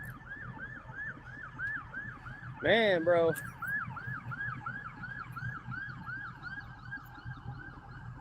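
A police sergeant's car arrives with its siren going, a fast, steady wail repeating throughout, broken midway by a loud, brief horn-like yelp, with a short spoken remark.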